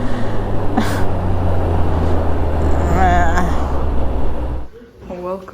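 A city-centre traffic jam in Yekaterinburg: a steady low engine rumble with passing vehicle noise, and a voice talking over it before the sound drops away near the end.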